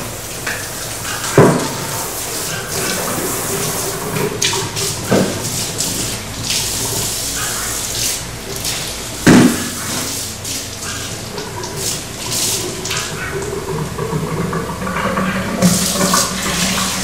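Tap water running steadily during a dog's bath, a continuous close splashing hiss with a few louder spurts and thumps as the stream shifts.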